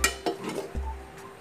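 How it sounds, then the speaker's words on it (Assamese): Fried potatoes tipped into a kerahi (wok) of Assamese mutton curry: a few sharp clanks of a utensil against the metal pan and soft low thumps, close and fairly quiet, with no talking. "ভাজি থোৱা আলুখিনি দি দিওঁ"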